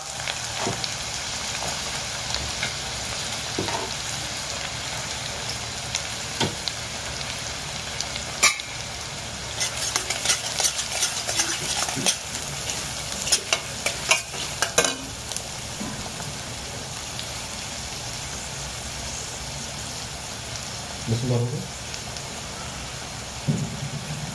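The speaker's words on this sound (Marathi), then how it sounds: "आता आपला तेल गरम झालेला आहे, तर आपण टाकूया कांदा" Chopped onion fries in hot oil for a goat brain masala, a long, even crackling sizzle with scattered scrapes and clicks of stirring, loudest around the middle.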